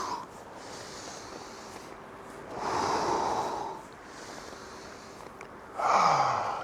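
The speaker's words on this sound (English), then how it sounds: "So really connect to your breath here. Breathe in and out." Slow, deep breaths drawn in and let out during a gentle qigong session, three soft swells of airflow spaced a couple of seconds apart, close and alone with no talking.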